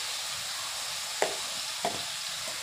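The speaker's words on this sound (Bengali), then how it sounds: "কুমড়ো ভাজা করবো একটুখানি।" Pumpkin pieces fry in a pan seasoned with salt, turmeric and chili powder, giving a steady close sizzle broken by two short clacks of stirring.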